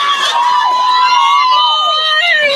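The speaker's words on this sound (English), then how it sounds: "You hear the crowd here." Crowd noise at a high school football game between the Rosman Tigers and South Davidson Wildcats, a loud, sustained wash of shouting and cheering voices at close range.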